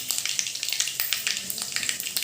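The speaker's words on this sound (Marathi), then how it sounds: "मोहरीला छान तडका आल्यावर त्याच्यात आपण जिरं टाकणार आहोत त्यातच मेथीचे दाणे हिंग" Whole spices, mustard seeds, cumin, fenugreek and asafoetida, sizzle and crackle in hot oil for a tempering, with dense continuous frying hiss and many sharp seed pops close to the pan.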